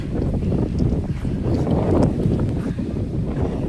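Strong wind on a hilltop at KM90 in Tanay, Rizal buffets the microphone in a continuous loud broadband roar with no voices.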